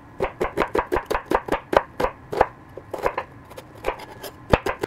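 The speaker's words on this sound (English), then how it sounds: "what I'm going to do is thinly slice up a red onion" A knife thinly slicing a red onion on a board: a quick run of crisp, even cuts followed by a few slower, scattered strokes, close and clear with no talk.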